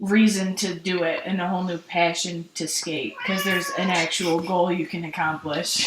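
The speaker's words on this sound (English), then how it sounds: "Please excuse the cat meows." A pet cat meows indoors, the short cries mixed in under continuous close talking by a woman.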